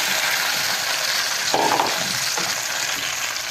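Chopped onions sauté in a pan for homemade pizza sauce, giving a steady close sizzle and crackle with one brief stir or scrape in the middle.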